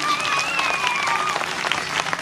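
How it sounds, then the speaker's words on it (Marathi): A crowd at a political rally claps loudly to welcome an arriving legislator, sustained applause mixed with whistles and crowd noise. "त्यांच्यासाठी एकदा टाळ्यांचा कडकडाट होऊ द्या"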